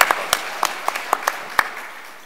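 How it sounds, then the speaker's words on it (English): A small audience at a book convention responds with sparse, scattered claps, a handful of distinct sharp hits spread unevenly and dying away within a couple of seconds. "Hold for applause."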